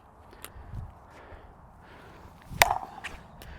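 A single sharp, hollow pop of a 6-0 Black Opal pickleball paddle striking a ball rings out loudly, preceded by faint ambient rustling and a few small taps.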